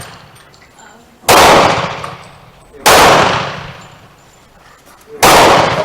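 Three loud, sharp rifle shots from a Swedish 1867/89 Remington rolling block chambered in 8x58R Danish Krag, fired outdoors at a range, spaced about one and a half seconds apart, each with a long decaying echo.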